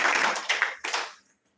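A gathered group in a Krishna devotional gathering claps together on cue, a dense burst of hand claps in a few quick surges that stops abruptly and fades into silence.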